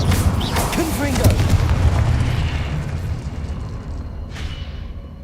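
A Confringo blasting spell explodes in Hogwarts Legacy, a broad booming burst with crackling debris that swells early and slowly fades, with a sharp hiss near the end.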